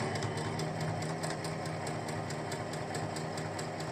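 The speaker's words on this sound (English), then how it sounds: "I'm sewing as close to this edge as I possibly can" A sewing machine stitches along the edge of a folded fabric book cover, its needle running in a steady rapid mechanical rhythm, close and fairly quiet.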